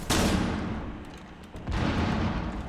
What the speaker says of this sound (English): Nade coming in.